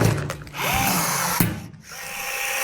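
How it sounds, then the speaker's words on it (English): A power tool drives rivets into the side frame of a 53-foot reefer shipping container in a garage, with short bursts of loud whirring and a sharp metallic clunk between them. "We'll just quickly rivet the side frame"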